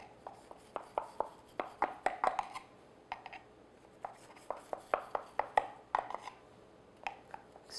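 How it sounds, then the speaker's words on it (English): A knife cuts through brownies in a baking pan, producing a quick series of sharp, close taps and scrapes in irregular bursts against the pan. "you can cut your brownies, whatever size you want"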